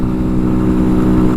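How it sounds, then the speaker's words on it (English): Herald Brat 125 motorcycle with a loud aftermarket-style exhaust, idling steadily and throbbing up close in a deep, continuous burble. "with this loud exhaust as well, sounds kind of cool"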